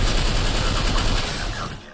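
Rapid automatic gunfire in the battle royale shooter Apex Legends, a steady loud stream of fast repeating shots close by, tapering slightly at the end.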